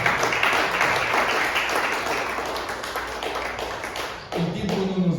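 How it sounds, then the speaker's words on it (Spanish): A church congregation applauds, a dense loud wash of clapping that fades slightly, then a voice cuts in near the end over the dwindling claps. "Denle ese aplauso al Señor."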